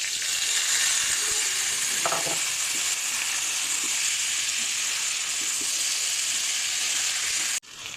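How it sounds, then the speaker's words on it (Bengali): Onions and soaked rice fry in a pan with bay leaf, cloves and cardamom, giving a continuous close hiss of sizzling oil with occasional stirring scrapes. "এলাচ, পেঁয়াজ, এটা ভালো করে ভেজে নেব। পেঁয়াজ ভাজা হয়ে আসছে"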